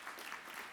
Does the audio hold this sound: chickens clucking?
no